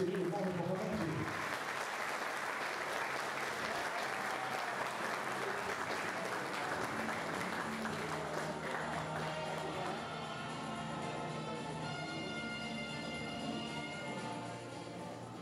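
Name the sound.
audience applause at honor ceremony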